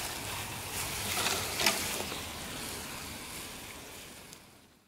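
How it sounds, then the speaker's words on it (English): A garden hose with a rosette fitting sprays water onto soil around the base of a plant, giving a steady broadband hiss and splash at close range that fades out near the end. "Now I'm watering out here under the drip zone"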